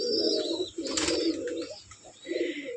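Pigeons of fancy roller breeds cooing in a loft, several soft rolling coos in bursts close by with short pauses between, a brief flutter midway and faint chirps above.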